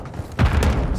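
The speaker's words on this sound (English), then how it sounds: "Tossing grenade!" A grenade blast in Call of Duty multiplayer, a sudden loud boom about a third of the way in with a sustained low rumble trailing after it.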